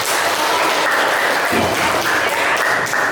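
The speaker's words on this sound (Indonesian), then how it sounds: "Tepuk tangan untuk kita semua." Classroom audience of children applauding together after a shared reading lesson, a dense, steady wash of clapping that fills the whole stretch at close range.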